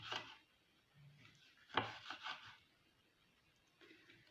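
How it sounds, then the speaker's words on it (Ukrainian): A knife chops an overripe tomato on a board, with a few sharp, separate cuts and one louder strike near the middle, all quiet and close with no talking. "І помідор я також покришу"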